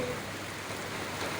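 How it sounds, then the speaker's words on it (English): Steady rain falls on a village road in Pakistan, a dense, even hiss of drops close by with no pauses and no voices. "You can see the rain."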